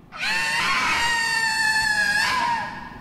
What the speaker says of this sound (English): Well, that scream sounds familiar.